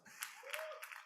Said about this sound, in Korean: 네, 박수를 한번.